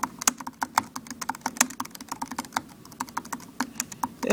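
Fingers type on the keyboard of an HP Mini 2140 netbook, a quick, uneven run of close, crisp plastic key clicks with no voices.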